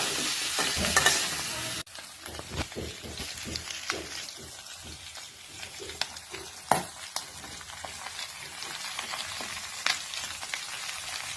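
Onion and garlic sizzle and crackle in hot oil in a pan while preparing a broiler chicken leg dish, a steady close frying hiss broken by sharp stirring scrapes and clinks, with no one talking.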